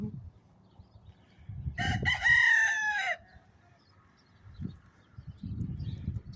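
One loud, nearby rooster crow rings out clearly, with quieter low clucks and rustling before and after.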